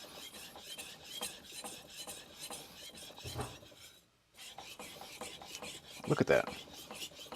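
A carbon steel Tojiro Shirogami santoku knife is stroked across a wet Japanese whetstone, giving a steady close rasping scrape in repeated passes, with a brief pause and a short spoken remark.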